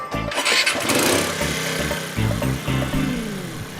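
A scooter engine cranks and catches, its low motor rumble starting and pulsing in uneven bursts as it turns over, loud and close with no voices over it.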